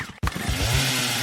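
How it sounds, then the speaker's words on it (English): A chainsaw roars continuously at close range, loud and steady with a harsh buzzing engine drone after a brief dropout at the start. "Oh my god, is that a chainsaw?"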